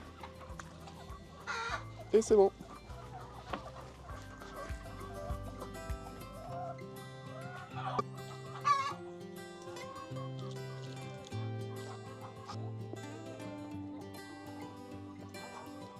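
Hens cluck and murmur close by as they are fed, with scattered clucks and a few louder squawks among the flock, while a person speaks briefly over them.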